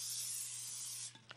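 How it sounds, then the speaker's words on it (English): Cooking spray hissing onto a baking dish for microwave cereal bars, one close continuous spray of about a second that cuts off, followed by a couple of faint handling clicks. "We're going to spray this with cooking spray so that it doesn't stick."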